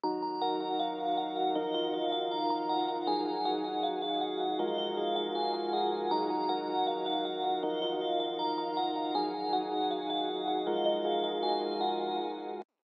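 Dark trap beat produced in FL Studio, carried by a high bell melody from a bell-with-harmonics synth preset over low sustained pads, playing steadily and loud throughout with no voices.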